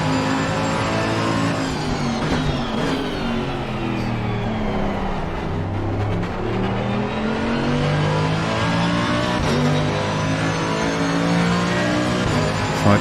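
Race car engine in Assetto Corsa Competizione, revving up and down through gear changes with rising and falling pitch sweeps, loud and close, continuous across the whole stretch.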